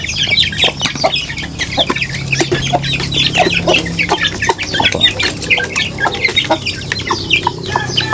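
A hen with six month-old chicks clucks constantly and nearby, and the loud, busy chatter of the birds overlaps with no pauses.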